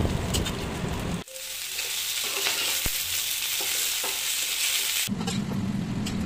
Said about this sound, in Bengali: মেখে রাখা চিকেন পিসগুলো ভালো করে ফ্রাই করে নিলাম